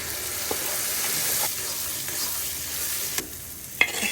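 Garlic and onion crackling in hot tempering oil, a steady close hiss with a few small pops and a sharper spoon tap near the end.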